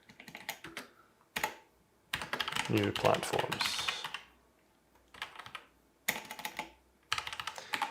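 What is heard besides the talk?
typing on a computer keyboard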